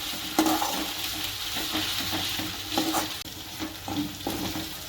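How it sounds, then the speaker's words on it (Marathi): Ginger garlic paste sautéing in a pan for chicken biryani, a steady close sizzle with soft stirring scrapes and light utensil clicks throughout, no talking. "परतून घेते मी अद्रक लसूण पेस्ट दोन मिनटं ना चांगलं परतून घेणार आहे मी"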